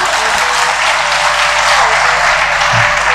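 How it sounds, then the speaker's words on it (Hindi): An audience at a Hindi-language talk on improving society claps in sustained, loud applause, a dense even wash of many hands close by throughout. "ताली मारो"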